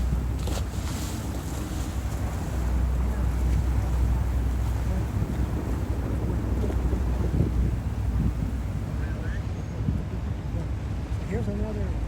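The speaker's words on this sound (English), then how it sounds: "Here's another water bus" A water bus boat motors steadily across open water, its low engine rumble blending with wind buffeting the microphone and washing waves, with voices talking over it.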